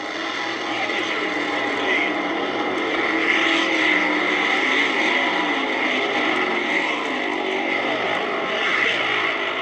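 Drag racing cars launch down the strip at the 1971 Summer Nationals, a dense, steady roar of engines heard from a distance, continuous and loud throughout with no clear breaks.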